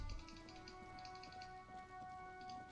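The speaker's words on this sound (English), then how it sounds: "All around you, rain falls on the great city of Rivershore." Steady rain falls on the city of Rivershore in the video game Disco Elysium, a soft continuous patter heard alone beneath sustained ambient musical tones.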